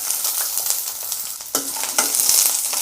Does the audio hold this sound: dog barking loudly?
no